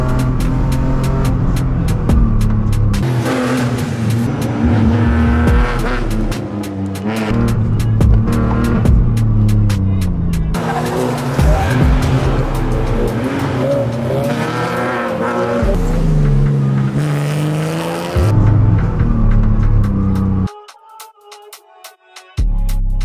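A BMW Z4 sports car driving on a track roars through hard acceleration and gear changes, its engine note rising and falling loudly with passes and brief tire squeal, before cutting to near quiet at the end.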